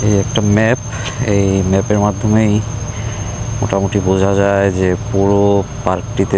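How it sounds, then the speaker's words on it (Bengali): Crickets chirp steadily in a botanical garden park in Kuala Lumpur, a constant insect drone running beneath someone talking throughout. "মাঝে মধ্যে ঝিঝি পোকা বা পাখির ডাক শোনা যাচ্ছে"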